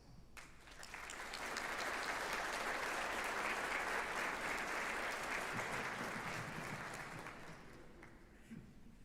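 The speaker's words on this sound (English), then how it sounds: "please join me in giving your families and friends a round of applause" An audience at a university College of Pharmacy white coat ceremony applauds for families and friends, the clapping swelling from quiet to a full, sustained roar in a large hall before fading as a voice returns.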